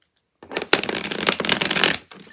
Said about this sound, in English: So I always have a general rule of shuffling at least 3 times this way.